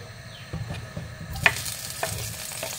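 Onions go into hot frying oil in a home kitchen, giving a close, soft sizzle broken by a few sharp stirring clinks and one louder crackle burst, with no talking.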